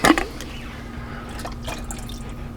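Water splashing and dripping as a spaghetti sauce jar is rinsed out into an Instant Pot, a brief louder splash at the start followed by soft trickles and drips.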